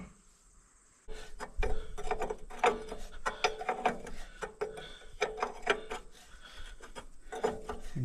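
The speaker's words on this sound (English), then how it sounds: "Now give me that wrench." A wrench at work on bolts of an old farm truck, clicking and ratcheting in uneven bursts close by after a quiet start, with metallic taps and clanks over faint background noise.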